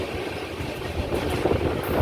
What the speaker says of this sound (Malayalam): ഒരു ചെറിയ ട്രെയിൻ വരുന്നുണ്ട്.